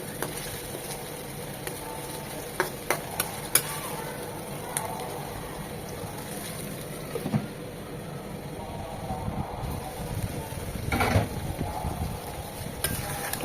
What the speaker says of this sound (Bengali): মশলা কষানোর এই পর্যায়ে একটা টমেটো চিকন চিকন করে কেটে দিয়েছি, মশলার সাথে কষিয়ে নেব যেন টমেটোর কাঁচা ভাবটা চলে যায়